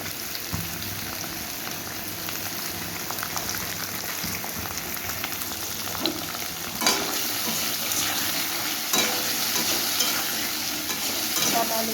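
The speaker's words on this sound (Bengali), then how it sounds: "আলুটা ডাটাটা একটু ভাজা হয়ে গেছে" Potato and drumstick pieces sizzle in hot oil while being stirred in a pan, a continuous close frying hiss broken by occasional scraping strokes of the spoon.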